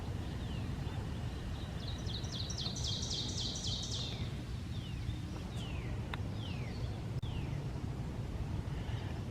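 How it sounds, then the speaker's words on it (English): Birds singing in a park on a spring morning, with repeated chirps and a rapid trilling phrase early on, then scattered descending calls over a low rumble of ambient background noise. "Here's so many birds."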